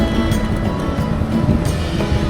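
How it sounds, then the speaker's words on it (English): Ocean waves at the Zacatela Beach surf spot on a low-surf day, a loud, close, continuous wash of surf and rushing water with no talk. "Now we're on Zacatela Beach. Now this is the surf spot. Waves are down right now."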